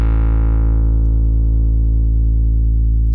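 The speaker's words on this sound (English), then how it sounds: "Then I want to add a little distortion for a more analog taste." A loud, sustained distorted synthesizer note buzzes steadily as its bright upper tones are filtered away, leaving a dark, thick drone.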